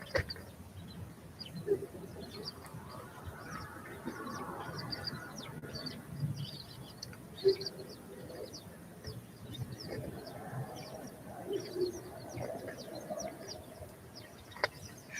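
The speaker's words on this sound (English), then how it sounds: "Can you hear all the little chirpy, chirpy, chirp?" Small birds chirp and tweet in brief scattered calls, with soft cooing like pigeons or doves mixed in, heard at a moderate distance over a steady background murmur.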